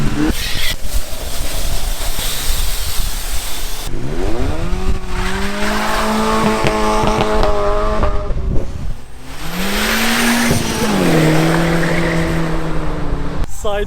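Toyota Yaris drifting sideways in the Birmingham car scene, with two long rising and falling tire squeals over loud engine roar, heard up close.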